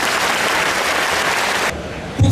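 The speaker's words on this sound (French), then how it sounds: "Vous pouvez les applaudir" Crowd applause for the town's young people at the Fête de Bessan on Place de la Promenade, a dense, loud outdoor roar of clapping that cuts off abruptly near the end, leaving quieter background noise and a brief low thump.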